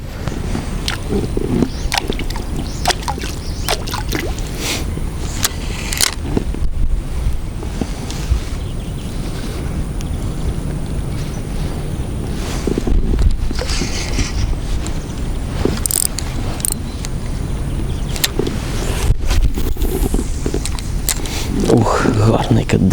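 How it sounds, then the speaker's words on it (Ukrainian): Strong wind buffets the microphone in loud, rumbling gusts throughout while pike fishing, with water and boat noises faintly underneath. "Вітер тільки дуже сильний"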